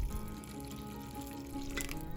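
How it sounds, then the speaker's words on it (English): Cold water runs steadily from a tap into a container to make cold brew coffee, a continuous splashing fill with no talking. "So just continue to fill your container with the cold water until it is filled up"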